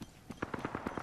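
Rapid video game gunfire, a steady burst of about eight evenly spaced shots, close and fairly quiet, with no talk over it.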